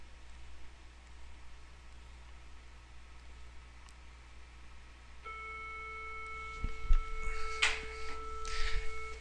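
A bell rings out across a classroom during a trigonometry lesson, a sustained electronic tone with a bright clanging burst near the end, rising above a faint hum of room noise after several quiet seconds.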